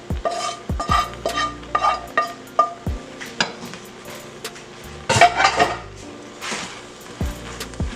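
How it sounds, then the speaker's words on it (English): Red peppers, onions, veggie crumbles and olives being stirred into quinoa in a pot, with repeated scraping and clinking strokes of a utensil against cookware at close range, a louder burst of stirring midway, and no talking. "So I'm adding red peppers, onions, and the crumblers and olives to my quinoa."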